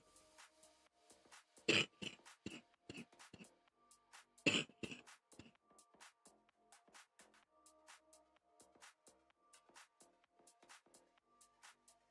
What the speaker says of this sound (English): Oh, I hate that cough.